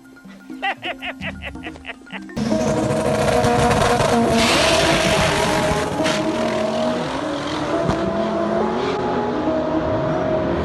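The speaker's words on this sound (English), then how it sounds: "I had an opportunity to race one of these Honda Civics." A Dodge Demon and a modded, boosted Honda Civic race, their engines roaring loudly and continuously after a short tonal burst at the start, the sound close and sustained to the end.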